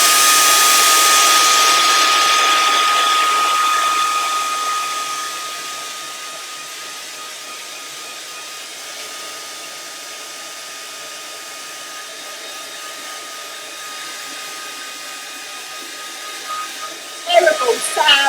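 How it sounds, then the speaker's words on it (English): A handheld hair dryer drying acrylic paint blows with a loud, steady roar that eases to a lower, constant whoosh after a few seconds, ending with a short clatter. "I'm going to dry this off quickly. That horrible hairdryer again."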